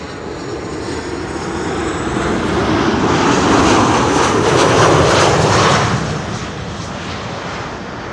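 A Transavia Airbus A321neo landing at Schiphol makes a broad jet roar that swells to a loud peak as it passes overhead, then eases back to a distant rumble.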